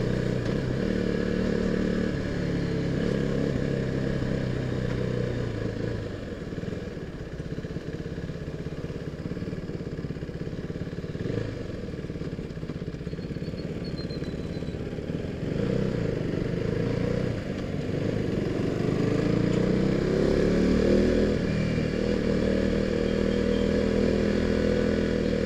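A KTM RC 390 motorcycle sits with its engine idling and the radiator fan whirring, a continuous loud mechanical drone with slight surges in level toward the end and no talk.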